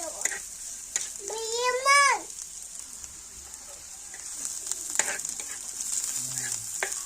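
Boiled eggs fry in hot oil with a steady close sizzle and occasional stirring clicks, while a short rising-and-falling vocal sound rises over the frying early on.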